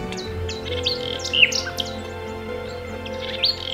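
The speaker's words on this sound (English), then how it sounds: "over the past 40 years the nightingales have returned" Nightingales singing at Fingringhoe Wick, varied sharp chirps, trills and whistled phrases over a steady background hum, moderately near, no talking.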